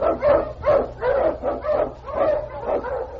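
Several Eskimo sled dogs bark and yip in a rapid, steady series of loud calls, close by and overlapping.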